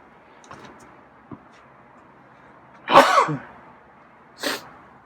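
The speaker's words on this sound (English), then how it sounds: "And sneeze." A sharp, loud sneeze bursts out close by, followed a moment later by a shorter breathy burst, in an otherwise quiet room.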